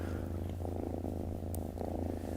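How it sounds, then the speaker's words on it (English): A small rescued kitten purrs close up, a low, continuous rumbling throb that holds steady and moderately loud with soft breathy pulses and no voices. "She's just purring here."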